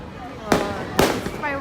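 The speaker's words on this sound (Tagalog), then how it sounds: "Fireworks." Birthday fireworks at a mall burst in two sharp, loud cracks about half a second apart, with excited voices of children and adults talking around them.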